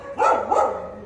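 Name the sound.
soi dog barking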